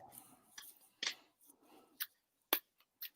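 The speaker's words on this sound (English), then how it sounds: "I'm going to shuffle the cards" A deck of tarot cards being shuffled close by, a series of short, crisp riffling and slapping bursts separated by brief pauses, quiet and with no talking.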